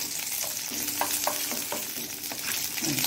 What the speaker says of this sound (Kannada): ಒಳ್ಳೆ ಕರಿಬೇವಿನ ಸೊಪ್ಪು ಸಹ ಸ್ವಲ್ಪ ಕ್ರಿಸ್ಪಿ ಆಗಬೇಕು.